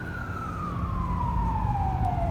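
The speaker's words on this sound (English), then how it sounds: "Mexico City is one of those places where you get used to all the sirens and all the noise." A wailing emergency-vehicle siren on a Mexico City street, its tone sliding steadily downward as it passes, loud and continuous over a rumbling bed of traffic noise.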